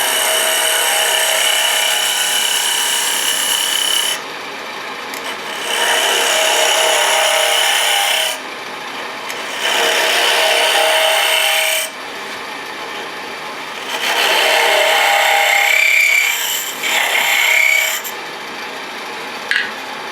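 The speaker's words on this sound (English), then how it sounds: "I use this back hollowing technique, Endgrain Hollowing." A woodturning lathe spins while a tool hollows the end grain of a wooden box, a loud close scraping rasp in long passes of several seconds each, with brief quieter gaps between cuts and no talk.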